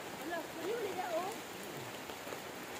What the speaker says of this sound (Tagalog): So naabutan talaga kami ng ulan guys.